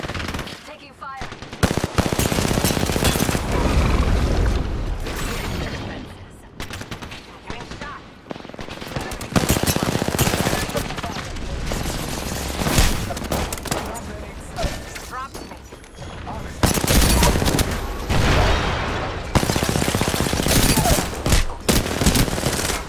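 Heavy automatic gunfire from a first-person shooter game, loud and sustained in rapid bursts across the whole stretch, with booming impacts and a player talking over the shooting.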